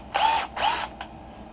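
Two short whirring bursts from a power drill driving screws on an RC car, followed by a brief blip, loud and close with quiet between.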